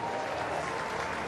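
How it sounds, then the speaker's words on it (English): Warm applause from a cricket crowd at a Pakistan versus New Zealand one-day international, steady, dense clapping that fills the whole moment without a break. "Warm applause."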